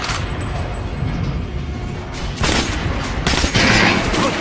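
Rapid gunfire at training dummies in a Metro video game, bursts of loud overlapping shots with sharp bangs near the end.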